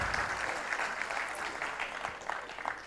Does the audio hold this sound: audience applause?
yes